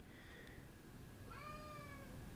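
A cat gives a short faint meow, then a longer, clearer rising meow about a second later, both heard close but quiet against a soft background hiss, with no talking.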